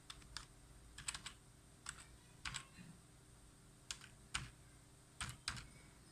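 A password is typed on a computer keyboard in a quiet room, heard as soft, scattered keystrokes in small irregular clusters over a low background hum.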